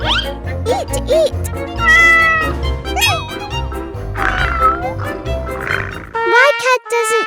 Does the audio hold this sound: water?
no